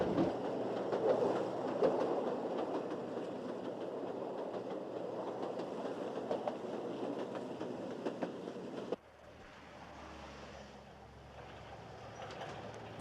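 A train on the Tua railway line in northern Portugal rumbles steadily from close by, with rhythmic clickety-clack and faint wheel squeal. The noise then drops abruptly to a quieter, muffled hum.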